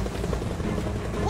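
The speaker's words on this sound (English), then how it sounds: "Oh, the same helicopter." Helicopter rotor thumping steadily through a Gears of War 4 firefight, a dense low chopping drone heard over game effects with a player's voice speaking on top.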